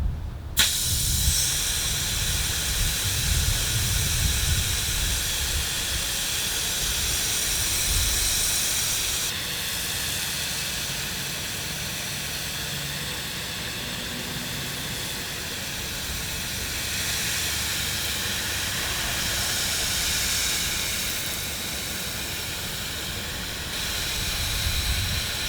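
A residential fire hose nozzle sprays water at high flow, full throttle, a steady loud broadband hiss and rush that continues unbroken for the whole stretch with only slight surges and no voices.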